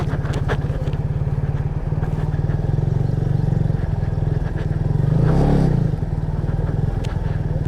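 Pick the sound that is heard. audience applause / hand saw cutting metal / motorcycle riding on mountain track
motorcycle riding on mountain track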